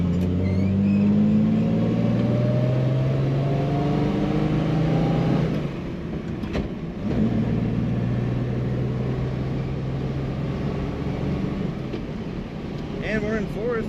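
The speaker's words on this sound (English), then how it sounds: "Smooth running little Triumph." A 1973 Triumph GT6 Mk III engine runs smoothly and steadily from inside the cabin, its hum shifting pitch as the car changes gear partway through, with a steady drone under the driving.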